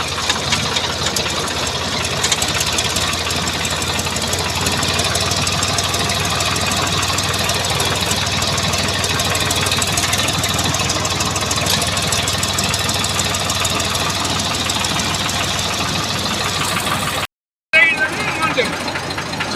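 A tractor engine idles with a steady, rumbling chug at night in a forest area, people talking over it throughout, and the noise briefly cuts out near the end.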